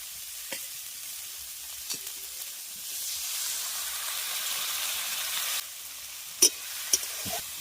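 Grated coconut and spices frying in a pan for a prawn and spiny gourd curry, with a soft steady sizzle and a few sharp clinks of a spoon against the pan, fairly quiet and without talk.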